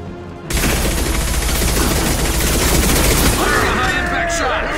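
Loud, continuous gunfire in the sci-fi shooter game Mass Effect 2, a dense barrage of shots and impacts filling the scene, with a brief quiet moment before it erupts and some game sounds near the end.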